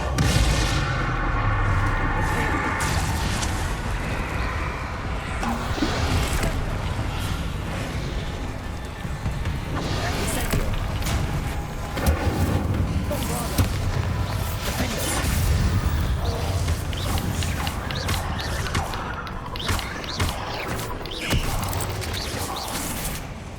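Spell explosions from Confringo blasts in Hogwarts Legacy, a dense, loud run of booms, crashes and mechanical clatter rolling on without pause, with game music and effects layered throughout.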